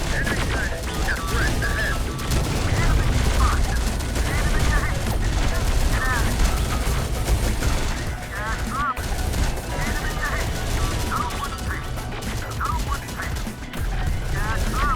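Sustained gunfire and explosions rage through a battle in the video game Terminator Dark Fate Defiance, dense continuous shooting with crashes and booms, loud and unbroken throughout.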